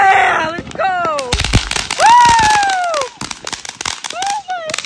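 Backyard fireworks and firecrackers pop and crackle in quick bursts close by, with whistling rockets rising, under excited shouting and cheering voices.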